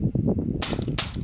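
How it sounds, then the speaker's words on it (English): Two sharp, snappy cracks from a suppressed .22 pistol firing 1240 fps ammunition, heard close with a brief gap between them, light and clipped rather than booming. "Next we will shoot it suppressed."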